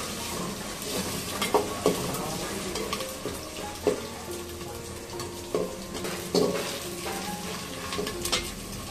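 Bay leaf, cinnamon and cardamom sizzle and fry in oil in a pan for a chicken curry, a steady crackling bed with scattered clinks and stirring scrapes close by.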